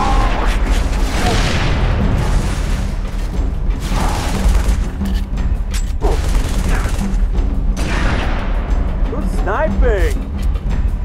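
A frag grenade explosion in the Halo 3 ODST video game booms amid a loud, continuous battle din of mechanical clatter and gunfire, with voices talking over the action.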